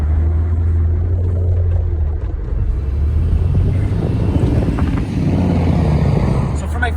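A Nissan 300ZX with an automatic transmission driving, its engine a steady low rumble with road noise heard from inside the cabin, continuous and fairly loud, with someone talking over it.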